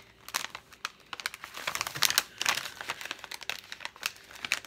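A plastic sticker bag crinkles and rustles as it is handled and cut open, close and crisp with irregular bursts of crackling.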